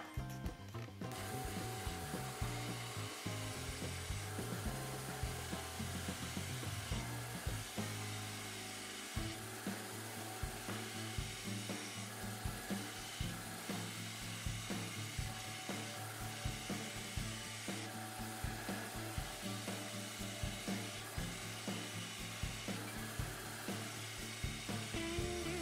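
A wood lathe turns an Indian blanket vessel while a tool gently rounds the surface near a feature ring, giving a steady, close mechanical whir and scrape with faint ratcheting texture that runs throughout, with no talking.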